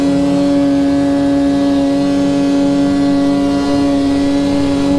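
A Chaos Boost snowmobile with a lightweight hood runs loud and close, its engine holding a steady, strong drone with a fixed tonal whine and no audible speech.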